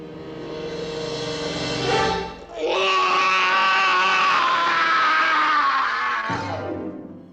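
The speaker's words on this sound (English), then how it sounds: "Scream. Scream." A horror film promotion fills with sustained, loud screaming from several people, a brief dip near the middle before the wailing cries resume and then trail off.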